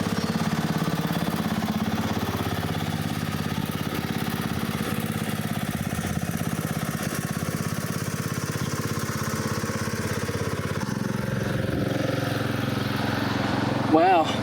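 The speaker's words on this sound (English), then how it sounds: "The gentleman in the lawnmower is pittering off now." A ride-on lawn mower's engine chugs steadily along a historic country-town street in Maffra, Gippsland, slowly moving off into the distance. Its low, continuous rumble runs the whole time beneath nearby talking.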